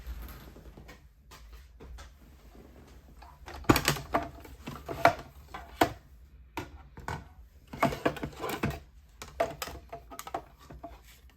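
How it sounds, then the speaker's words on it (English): A Stampin' Cut and Emboss machine die cuts stamped cardstock, giving a quiet start followed by a series of close mechanical rattles and cranking thumps in an uneven rhythm, with no speech. "now I'll bring my Stampin' Cut and Emboss machine in to die cut this"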